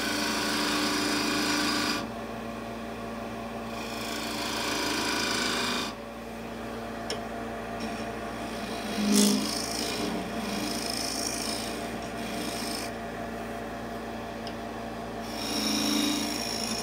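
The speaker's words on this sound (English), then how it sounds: "And to scrape the bottom here as well." Scraping tool working across the bottom of a wooden bowl turned from firewood, a continuous close rasping scrape broken by a few short pauses, with no talking.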